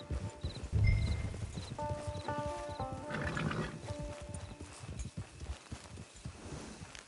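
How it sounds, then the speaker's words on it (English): Horse hooves clopping and a whinny inside Red Dead Redemption 2, with a neigh early on, hoofbeats continuing under a music-like tonal backdrop and game ambience. "Get your horse."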